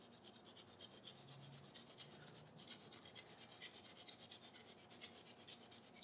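A vegetable is grated by hand on a grater, a quiet, fast, even scraping rhythm of repeated strokes heard close with no talking over it.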